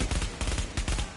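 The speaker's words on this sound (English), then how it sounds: "We got LMG dude firing at us in the middle." An LMG machine gun fires in The Division, a rapid, steady stream of rounds with an even rhythm, loud and dense with low thumping weight, continuing without pause.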